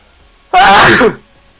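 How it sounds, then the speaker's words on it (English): A single loud, sharp sneeze bursts out close to the microphone after a brief quiet moment, then fades quickly. "I'm gonna sneeze."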